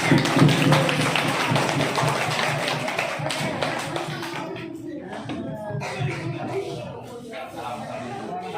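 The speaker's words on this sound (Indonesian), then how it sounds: "Boleh tepuk tangan semuanya." Schoolchildren at a primary school prize ceremony applaud in a dense burst of clapping that tapers off, with voices and shuffling audible in the room.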